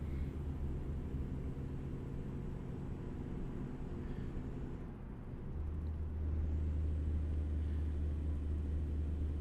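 A truck in a trucking game hauls a harvester with the throttle wide open, its engine rumbling steadily and swelling into a louder, deeper drone partway through, with no talking.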